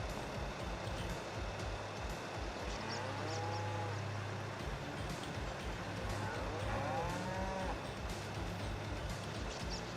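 Cattle in Farming Simulator 25 let out two drawn-out moos, moderately close, over a constant low machinery-like hum and rustling background.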